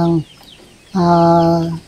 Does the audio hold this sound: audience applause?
no